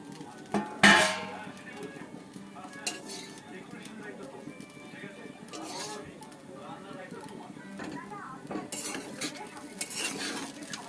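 A utensil scrapes and clinks against a pan while egg is stirred into turmeric-spiced semolina. The stirring is intermittent and close, with a soft sizzle underneath and someone talking throughout.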